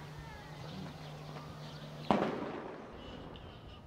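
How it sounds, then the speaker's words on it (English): A stun grenade goes off during an army raid, a single sharp blast that rings and echoes briefly over a noisy outdoor background. "It's a sound bomb."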